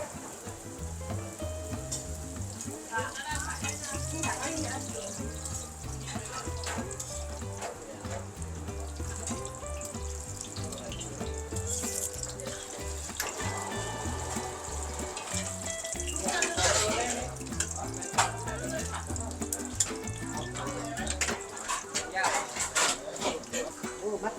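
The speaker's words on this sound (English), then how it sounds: "then dropped into hot oil, and the filling is added before the roti is folded over to seal it" Roti mataba frying in hot oil in a busy Krabi restaurant kitchen, a steady close sizzle under clattering utensils, running water and background kitchen noise.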